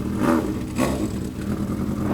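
Scooter engines rev behind a motorbike on the road, with rough buzzing bursts rising twice in quick succession over continuous traffic noise, fairly near and loud.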